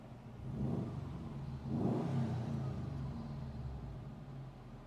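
A 2010 Subaru STI's flat-four engine cranks briefly, catches and fires up, then settles into a low, steady idle rumble, heard close by with no talking.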